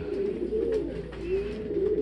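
A racing pigeon coos softly in repeated low, throaty calls, fairly close, with no one talking.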